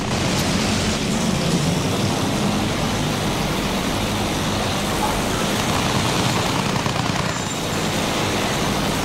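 Fighter aircraft in the video game Battlefield 1 during a dogfight, a steady, dense roar of engine and wind noise holding loud for the whole stretch, with faint combat sounds mixed in.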